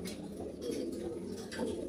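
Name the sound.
pigeon cooing in a pigeon loft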